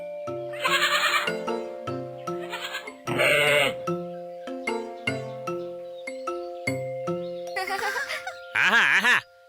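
Cartoon goats bleat in a string of short, wavering cries, some overlapping and rising in pitch, set against bright sustained tones from a children's animated story.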